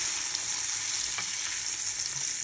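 Onion, garlic and yellow pepper sizzle steadily in a pan, a close, continuous frying hiss with no pauses and no voices.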